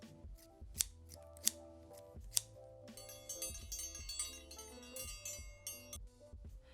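Scissors cut stretch satin fabric for a midi skirt, giving a few sharp snips followed by softer, continuing cutting sounds close by, quiet overall with no talk.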